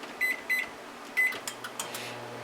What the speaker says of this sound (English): I can save some of the heat coming into the camper by putting it in the microwave instead of boiling it on the stove